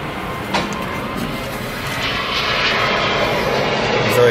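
An airplane flies overhead close to an airport, a loud, steady roar that builds gradually and fills the whole stretch.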